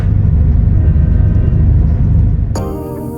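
Ageing diesel Australind passenger train arriving into Pinjarra station, a loud steady low rumble from close by that begins to fade near the end, when a higher tonal hum cuts in.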